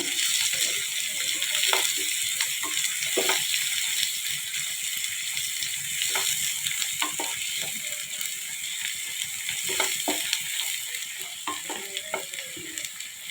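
Ground masala paste sizzling in hot oil for mutton fry, a steady bright frying hiss with intermittent scraping and stirring clicks of a spoon in the pan, close and continuous.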